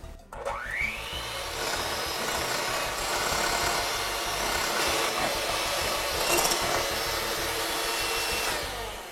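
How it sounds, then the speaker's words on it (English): An electric mixer whips egg whites with sugar, a steady close whirring drone with a brief rising whine at the start, running continuously without speech. "I'm going to go ahead and mix the egg whites, and I'm going to add the sugar about 1 tablespoon at a time"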